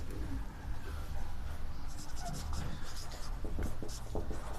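Marker or chalk writing on a board during a physics lesson, quick scratchy strokes, faint and close over steady room noise, with no speech.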